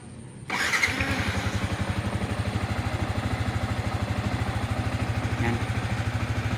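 A Spiner 155 motorcycle engine with 17K on the odometer idles steadily and close by after a throttle cable swap, a rapid even thrum starting abruptly and holding through to the end.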